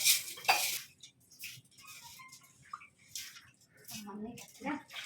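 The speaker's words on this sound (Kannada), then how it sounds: "ಫಸ್ಟು ಅಕ್ಕಿ ಮತ್ತು ಹೆಸರುಬೇಳೆ ತೊಗರಿಬೇಳೆನೆಲ್ಲ ತೊಳ್ಕೊಳ್ಳೋಣ" Rice, moong dal and toor dal washed in water, with sloshing and grains clinking against a metal vessel in short, scattered bursts, near and moderately quiet.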